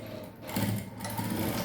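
A sewing machine runs steadily, stitching blouse fabric for a princess cut blouse, its close mechanical hum and rapid needle rhythm continuing with slight speed changes throughout.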